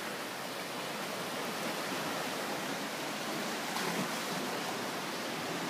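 Steady rushing water fills the space, a dense broadband wash like surf surging through an enclosed rock chamber, with a brief louder splash near the end; seawater in the Grotto sea cave on Saipan.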